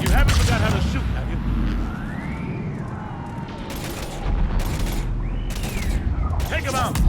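Video game gunfire in Mass Effect 3: bursts of rapid shots and booms over a dense combat soundscape, with synthetic whooshing effects and voices shouting during the fight.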